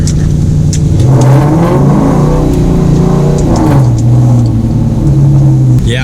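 A car engine revs up and down in loud, sweeping surges while drifting, the pitch rising and falling repeatedly as it accelerates, with no voices.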